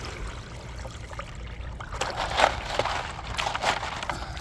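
A gold pan is dipped into a stream while prospecting, giving soft trickling and sloshing water close by, with a couple of brighter splashy surges in the second half over a steady low flowing background.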